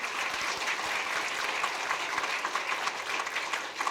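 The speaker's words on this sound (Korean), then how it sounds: "우리 박수로 인사하도록 하겠습니다" A church congregation at a New Year's Eve worship service applauds the church staff, a steady, dense round of clapping from many hands that holds evenly throughout without a break.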